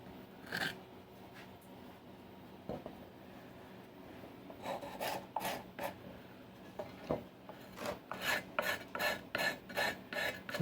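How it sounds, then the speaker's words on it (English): A belt sander at about 120 grit smooths a custom pulley cover for an Indian Scout motorcycle, giving faint, intermittent rasping strokes that grow quicker and more regular toward the end. "The belt sander is about 120 grit right now."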